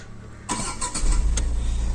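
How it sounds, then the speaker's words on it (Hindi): A Tata Tiago iCNG hatchback engine cranks with a short burst of starter clatter, then catches and settles into a steady low idle rumble heard from nearby, with no talking. "जैसे ही आप गाड़ी को स्टार्ट करते हो"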